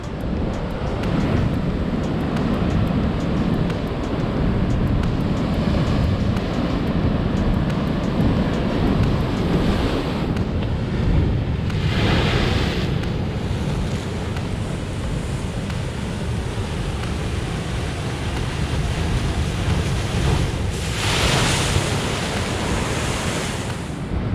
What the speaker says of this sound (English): As the waves pound on the rocks, creating a cauldron of white foamy water at the base there.